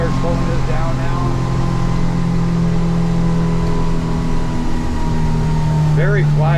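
A Hewescraft Searunner boat with an F150 outboard easing off speed, a loud steady engine hum close by with a faint drop in pitch, while a person talks over it.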